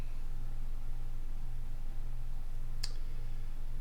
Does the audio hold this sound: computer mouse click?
yes